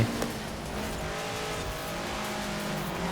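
A fast race car in the Forza Horizon 4 video game on a wet, slippery road after rain, engine droning loudly and continuously with tires squealing, no talk over it.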